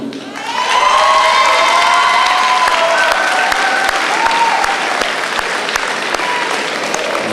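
Loud applause and cheering fill a university commencement ceremony, with sustained crowd clapping, whoops and shouts from graduates rising after a moment and continuing strongly to the end.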